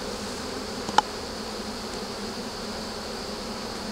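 A steady, low buzz of honeybees hums throughout, many droning together, with one brief sharp click near the start.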